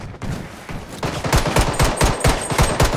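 Heavy automatic gunfire in the shooter Blood Strike hammers out in fast, loud, closely spaced shots, a continuous rattle of bursts with no talking.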